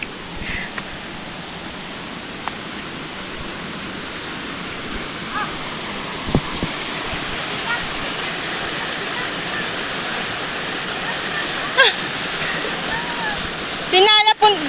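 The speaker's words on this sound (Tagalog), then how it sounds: "Massive water." Water rushing steadily in a stream on a morning outing, a broad continuous wash that stays close and fairly loud throughout, with a few brief voices and light knocks near the end.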